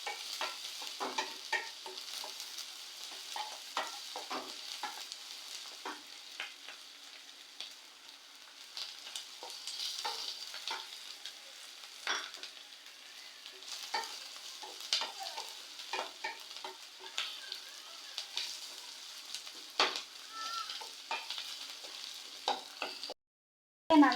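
Large onions sautéing with green chilli and curry leaves for egg curry, a soft steady sizzle broken by frequent scraping stirs of a spatula against the pan, fairly quiet with no talking.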